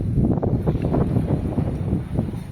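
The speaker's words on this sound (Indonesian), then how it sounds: "Ini agak berisik teman-teman karena anginnya lumayan kencang." Strong wind buffets the microphone at Losari Beach in Makassar, a continuous loud rumbling roar with gusty swells and no pauses.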